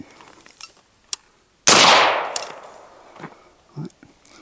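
Single unsuppressed gunshot from a B&T XH Compact rifle in 5.56: one sharp, loud crack with a decaying boom, set among quieter clicks and handling noises before and after.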